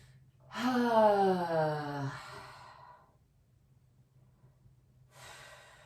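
A person resting in a forward fold stretch after snowboarding lets out one long, slow, audible exhale like a soft sigh, then falls quiet before a fainter breath begins near the end.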